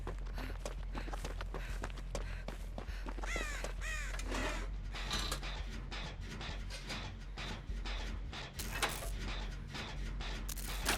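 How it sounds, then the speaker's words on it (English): Crow flapping its wings and cawing in the Dead by Daylight video game, close by amid a busy game soundscape with repeated footstep-like thumps and bird calls over steady background noise. "the crow just flapping its wings in the back of my ear"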